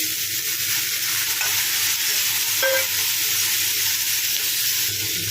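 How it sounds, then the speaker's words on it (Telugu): Three chopped tomatoes fry in a pan for a tomato curry, a loud, even sizzle held throughout with stirring scrapes, and nobody speaks. "అలాగే కట్ చేసిన 3 టమాటాలు వేసుకోండి."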